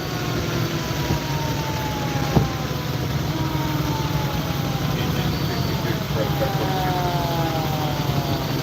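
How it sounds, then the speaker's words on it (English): A fire engine siren approaches a traffic collision scene, its wailing tones sweeping continuously over a steady engine and street rumble throughout. "No, another fire engine coming."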